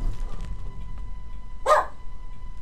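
A dog barks once or twice in a short burst from another room, reacting to someone outside, over the steady hum and low rumble of Fallout 4 gameplay audio.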